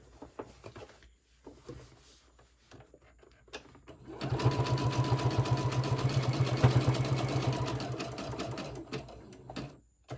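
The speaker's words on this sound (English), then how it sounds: "throw it under your serger" Serger sewing machine overlocking the raw edges of fabric for a boxy pouch: a steady, fast mechanical whir runs loud and close for about six seconds after a quieter stretch of faint handling noises, then stops.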